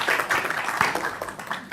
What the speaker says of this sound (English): Can we give a round of applause to the team?